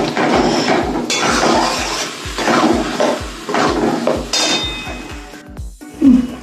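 Spice paste sautéed in a pan for gravy, a spatula knocking and scraping the metal in a quick, regular run of clanks over a sizzling background.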